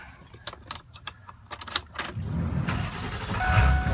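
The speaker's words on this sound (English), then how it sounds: "I'm going to fire this truck up." A Ford truck with about 178,830 miles is started: a series of clicks and key rattles, then a rumbling engine catch that settles into a steady idle, close by.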